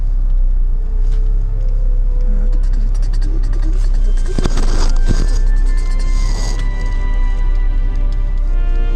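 A car engine starts and runs with a steady low rumble and hum throughout, a louder burst of noise in the middle.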